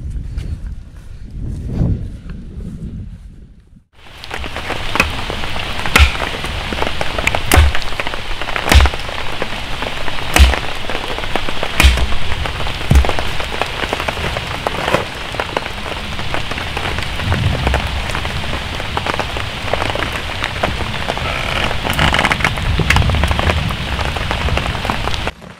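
Steady rain pours in a forest at a fishing camp, a dense hiss of drops on surfaces with louder patters and taps from nearby, starting after a few quieter seconds and continuing unbroken.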